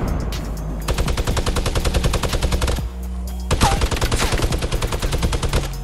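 Gunfire in the Fortnite video game: loud, rapid bursts of automatic shots in two long volleys separated by a short pause, close and dominating the mix.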